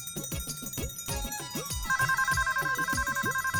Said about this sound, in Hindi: माँ का फोन आया, आवाज कहाँ से आ रही है?